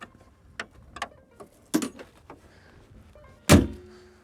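A Renault Twingo 1 door opening: a few soft clicks and a latch clunk, then a sharper, louder thunk of the door mechanism close to the listener, with no talking.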